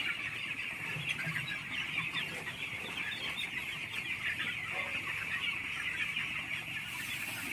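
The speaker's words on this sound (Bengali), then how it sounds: "একটা কালো মুরগি এসছে" Chickens, including a black hen, cluck continuously on a village poultry farm, a dense, busy chorus of overlapping clucks that carries steadily without talk.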